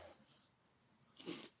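Dogs asleep on a couch at home, breathing softly with a faint snort-like exhale near the end, quiet and close with no talking.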